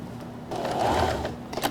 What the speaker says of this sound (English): now we're going to sew this U shape